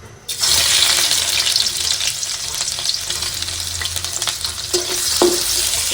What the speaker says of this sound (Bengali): তেলটা গরম হয়ে গেছে, এখন দিয়ে দেবো আমি পেঁয়াজ কুচি